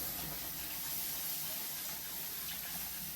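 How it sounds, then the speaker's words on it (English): Water pours into a pan of bacon gravy, a steady, hissing rush of liquid and steam that stays even and fairly faint from start to finish. "Then I pour the water in there."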